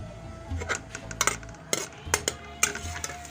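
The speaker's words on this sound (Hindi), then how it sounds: "प्याज फ्राई हो गया है।" Onions frying in a pan are stirred with a utensil, giving irregular scrapes and metallic clinks against the pan over a soft sizzle, close and fairly quiet.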